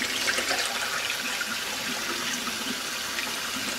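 Water runs steadily over sprouting wheat in a bowl during rinsing, a continuous close splashing and trickling wash with no break and no voices.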